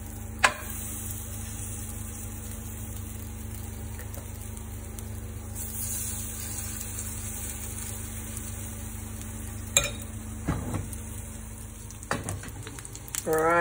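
Corn cake mixture sizzling steadily in a pan with leftover sauteed onions and garlic, a constant soft frying hiss with occasional clicks and clatters of utensils near the end.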